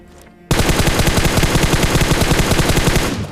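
Rapid automatic gunfire in a battle royale video game bursts in after a short quiet start, a loud sustained stream of evenly spaced shots running to the end.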